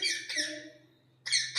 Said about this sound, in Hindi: ये तोते की आवाज है।